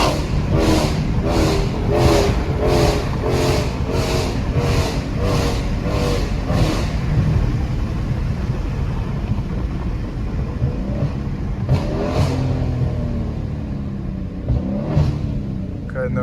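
A Dodge Challenger Scat Pack with a 392 engine on a night drive along a small rural road gives off a loud, steady engine rumble, with rhythmic pulsing revs through the first seven seconds and a couple of brief surges later.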